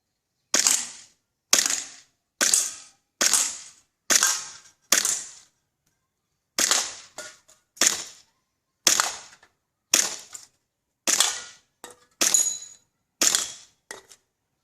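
A Glock 18C airsoft pistol fired outdoors at targets: about fifteen sharp, close cracks, each with a short decaying tail, in quick single shots with brief pauses between groups and no voices.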